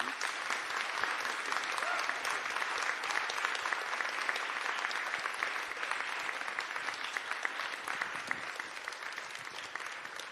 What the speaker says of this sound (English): Could you give my writers a round of applause?